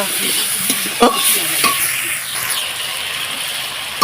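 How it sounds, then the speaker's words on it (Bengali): Spice masala with turmeric powder sizzles steadily as it is stir-fried in a pan, with occasional scrapes and knocks of the spatula, close and continuous. "দিয়ে দিচ্ছি হলুদ গুঁড়ো ভালোভাবে কষিয়ে নেব"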